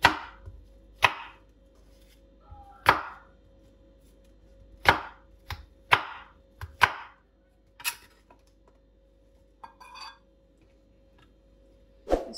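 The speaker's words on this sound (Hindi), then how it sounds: "ऐसे ही आपने एप्पल को काट लेना है" Apple being sliced with a knife on a board for a no-bake fruit cake, a series of sharp separate chops at uneven intervals, close and crisp against near silence.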